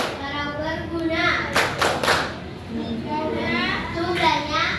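A group of children in a classroom performs the Tepuk Al-Maun clapping chant, voices chanting in unison, punctuated by a few sharp bursts of hand claps.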